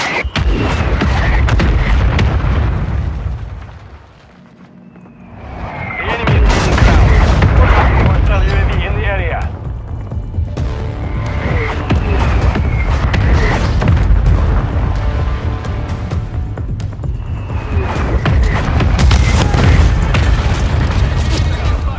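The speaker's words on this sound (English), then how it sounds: "Hostile mortar strike near your position." Mortar strike explosions land in Modern Warfare III multiplayer, loud, repeated heavy booms and rumbling blasts that ease briefly to a near hush before resuming with scattered gunfire, voices speaking now and then.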